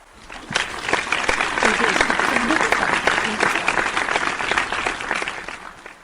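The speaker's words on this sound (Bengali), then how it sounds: "একটি হাতে তালি হয়ে যায়" A round of applause from an audience, many hands clapping steadily and fairly loudly for about five seconds before fading out.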